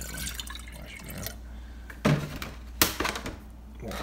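Distilled water is swirled around inside glass jars to rinse out leftover peach wine sediment: irregular sloshing and splashing bursts, close and fairly loud, with quieter trickling between them.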